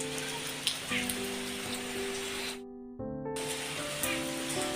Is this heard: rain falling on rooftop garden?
yes